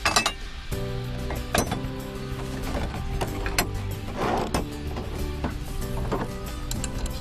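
Hand-tightening a threaded fitting on a Do-All Outdoors Aerial Assault auto trap accessory, close up: a steady run of metallic ratcheting clicks and clinks with gear-like mechanical rattles, no talking.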